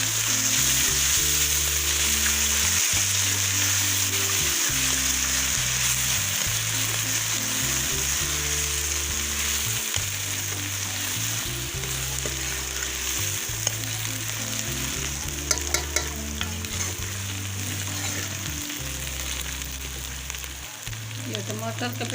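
Onions fry with garlic-ginger paste in a pan, giving a loud, continuous sizzle with occasional stirring clinks and a low steady hum underneath.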